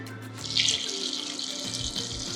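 Water pouring from a tap into a soup pot of sweet potato pieces in a home kitchen: a steady, moderately faint splashing stream that runs continuously throughout.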